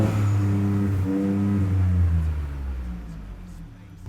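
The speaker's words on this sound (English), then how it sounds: "you heard the blow-off valves, all that good stuff. You heard the exhaust" A car engine with a 4-inch black cat-back exhaust and blow-off valves revs loudly and rumbles with a deep exhaust note, the pitch rising and falling before settling into a lower steady drone; a faint voice underneath.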